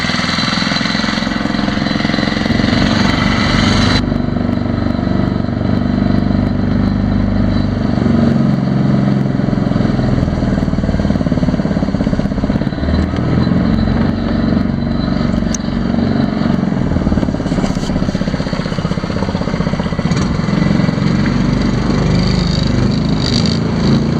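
Outboard motor on a motorized Wavewalk kayak running steadily and loudly throughout, a continuous droning engine note with a brief change near the start, no talk.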